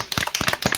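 A small group in a GTA roleplay scene applauds, a quick burst of several close, loud claps in an uneven rhythm over less than a second.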